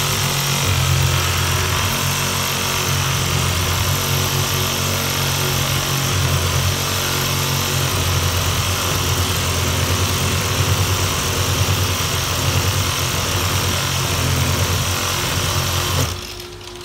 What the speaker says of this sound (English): Hand drill.